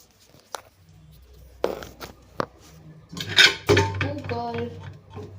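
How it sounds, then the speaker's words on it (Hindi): Metal pots and utensils clank and knock in a home kitchen as dal is put on to cook, several sharp irregular clatters close by, with a voice speaking briefly amid the handling. "तो पहले मैं दाल चढ़ा दूँ"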